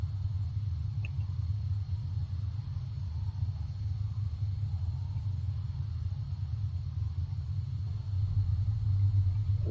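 A vehicle engine in the video game Arma 3 idles as a steady, low, fairly quiet rumble that runs unbroken throughout with no talk over it.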